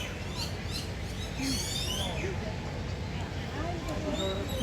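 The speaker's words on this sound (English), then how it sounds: "There's a bunch of birds." A flock of birds at an animal sanctuary chirps busily, with sweeping and repeated high calls layered closely over steady ambient noise, while people talk nearby underneath.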